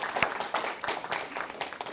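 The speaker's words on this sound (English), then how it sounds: "If we could just give him a quick round of applause." Brief round of applause from an audience at a tech commercialization event honoring a departing leader, moderate clapping with distinct individual claps rising and falling, somewhat distant and fairly faint.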